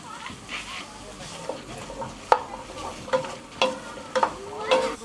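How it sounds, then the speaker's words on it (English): Vegetables stirred in a hot frying pan for a braised horse meat dish, a steady sizzle broken by several sharp utensil scrapes and clinks against the pan, close and moderately loud. "And give that a good stir."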